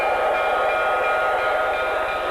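An MTH O gauge toy locomotive runs steadily on its track, a continuous close mechanical hum and rolling rumble with no pauses, loud and alone.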